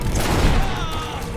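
A magic bomb goes off in the video game GreedFall: one loud, dense blast with a rumbling, crackling burst that holds steady for over a second before easing slightly.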